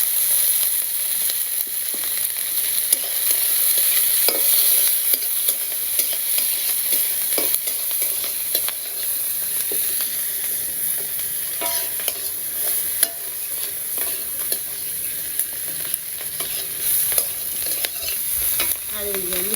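Garlic and green chillies frying with water spinach in a pan: a loud, continuous sizzle with frequent scraping and stirring clatter throughout, close up.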